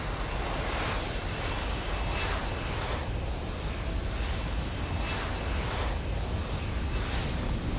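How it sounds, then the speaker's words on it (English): A helicopter arrives in the video game Deus Ex: Human Revolution with a steady, loud rotor and engine roar that pulses evenly and fills the scene without pause. "So if I click on the helicopter, I'll get..."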